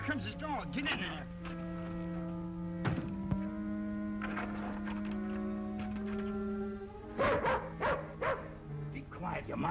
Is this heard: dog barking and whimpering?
yes